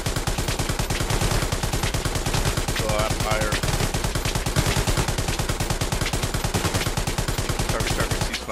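Rapid sustained automatic gunfire from a tank engaging infantry in the open in Hell Let Loose, a steady loud stream of shots throughout with faint voices underneath.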